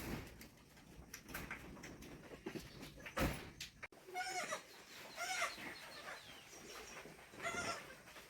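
Goats bleat on a farm during their morning routine after heavy rain, with several drawn-out calls repeating through the second half over steady background noise.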